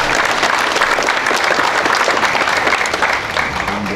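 Loud, sustained clapping from a large audience at a memorial ceremony marking the 60th anniversary of President Syngman Rhee's death, held in a memorial hall, dense and even from start to finish.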